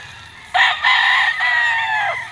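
A white Kelso gamefowl rooster crows once, loud and close, a strained two-second call rising sharply then holding, heard alone over faint background noise at a gamefarm.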